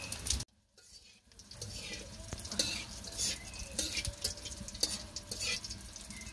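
Cumin seeds and spices crackle and sizzle in hot oil in a home kitchen, a steady fry with small pops and scattered clinks of a utensil against the pan. No speech.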